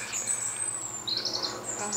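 High, thin birdsong with sustained whistled notes and trills, fairly close and clear over a soft outdoor background on the Sussex Downs.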